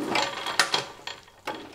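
Lathe sliding gear being shifted into back gear, giving a few short metallic clicks and scrapes at uneven intervals, close and fairly quiet.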